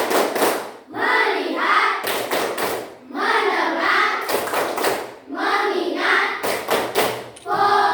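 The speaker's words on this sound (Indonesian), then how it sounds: "Gimana kalau kita tepuk fokus dulu?" Children chant the Indonesian 'tepuk fokus' routine in a classroom, their voices broken by sharp, loud group hand claps in quick rhythmic bursts, with spoken words carried between the claps.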